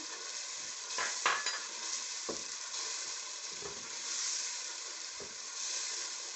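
Pickle, tamarind and chilies sizzle in a pan for chana pulao, a steady close hiss of frying broken by a few sharp spoon-scrape clatters against the pan, with nobody speaking.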